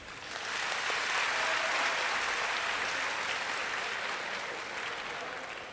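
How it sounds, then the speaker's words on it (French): An audience applauds the two finalist universities at a competition final, clapping that swells quickly and holds as a dense, sustained round before easing slightly. "je voudrais qu'on puisse les applaudir toutes"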